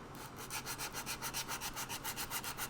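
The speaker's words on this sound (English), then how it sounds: "I'm just sanding this body up." Steady back-and-forth sanding strokes rasp against a wooden guitar body in a regular rhythm, close and moderately quiet, with no talking.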